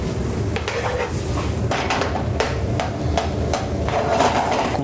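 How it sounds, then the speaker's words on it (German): Pumpkin pieces frying in browning butter with whole pistachios in a pan, a steady close sizzle with sharp scraping and tapping knocks as the pan is stirred, no voices. "Zusammenbraten, nicht so viel, weil die Kürbisse die sollte sowieso knusprig bleiben"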